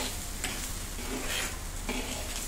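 Onion chutney ingredients (onion, red chillies, garlic, ginger, coriander leaves and tamarind with pink salt) fry in a pan with a steady close sizzle and occasional stirring scrapes, no talking.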